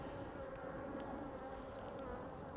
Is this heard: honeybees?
yes